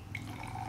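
Bottled spring water, plain and cold, is poured into a bird's water container, a short soft trickle and splash heard close and quiet.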